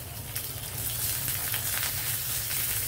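Curry leaves hit hot oil already tempered with cumin, mustard seeds and dried red chillies, giving a soft, continuous close-up sizzle and crackle, fairly quiet and unbroken by talk.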